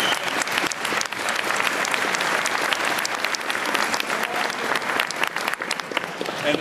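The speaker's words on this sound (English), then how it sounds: "there was some clapping going on" Dense, steady applause from an audience at a ravioli dinner fills the room continuously, loud and sustained, with a faint crowd murmur underneath.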